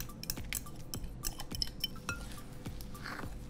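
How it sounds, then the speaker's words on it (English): A spoon clinks against a bowl while wet ingredients are stirred into dry ones for a healthy cholesterol-lowering dessert, with repeated close scraping taps in a steady rhythm. "We're just gonna simply add those to our dry ingredients and stir that all around."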